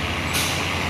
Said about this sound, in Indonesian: Dan yang dari atas nih satu nih truk Hino box